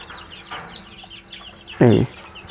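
A chicken receiving an eye-drop vaccine gives one short, loud squawking cluck near the end, following quieter bird chirps and faint background sound.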